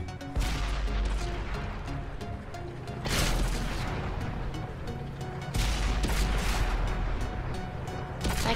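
Heavy tank cannon blasts from Sherman Jumbo tanks in World of Tanks on Xbox One. Four loud, booming shots land a few seconds apart over a constant rumbling battle din, with no voices.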